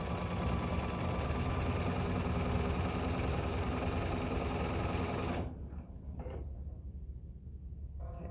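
Sewing machine stitching an eighth-inch seam around three sides of a fabric pocket bag, a steady close-up mechanical whir for over five seconds, then it cuts out to quieter intermittent motor sounds.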